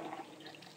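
A tap runs steadily while hands are being washed with soap, a soft, continuous close trickle with small splashy fluctuations and no talking.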